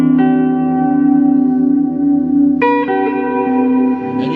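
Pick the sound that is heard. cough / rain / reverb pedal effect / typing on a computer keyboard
reverb pedal effect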